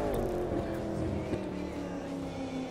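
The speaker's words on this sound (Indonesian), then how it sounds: "Ah, dengar suara itu mobil." A race car engine in The Crew 2 roars continuously at close range, its tone wavering as it revs, with a voice talking over it.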